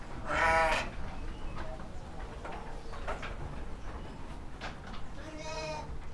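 Texel and Dorper sheep bleat twice in a livestock pen, one loud cry at the start and another near the end, with quieter farmyard noise between them.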